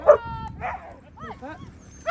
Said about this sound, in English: So we're getting to pat and meet the dogs.